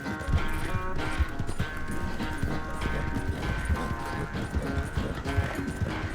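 A horse galloping in Red Dead Redemption 2, with rapid, rhythmic hoofbeats thudding steadily and close over a low ambient bed, continuing throughout.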